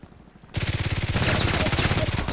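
Rapid automatic rifle fire from the online shooter game Contract Wars rattles out in one sustained, loud burst of closely spaced shots after a brief quiet moment.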